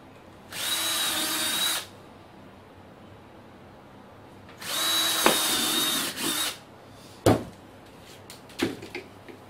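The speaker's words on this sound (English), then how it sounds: "Then we're going to go ahead and drill our holes where we've marked for the transformer." Power drill boring mounting holes for a transformer during a gas saving device installation: two sustained whirring bursts of about a second or more each, followed by a few short clunks and taps, close and loud with no talk.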